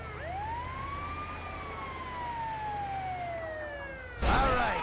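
An ambulance siren in Grand Theft Auto V wails in long rising and falling sweeps at moderate distance over low traffic rumble, ending in a sudden loud crash-like burst.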